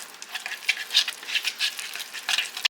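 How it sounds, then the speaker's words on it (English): Nut butter is stirred by hand into a mashed overripe banana mixture, a close, steady run of soft sticky squelches and scrapes in an uneven rhythm, with no talking. "And just mix your nut butter up in there"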